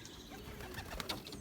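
Belgian racing pigeons at the loft during a young-bird test race arrival, soft low cooing mixed with scattered chirps and a brief flutter near the end, moderately close with background noise.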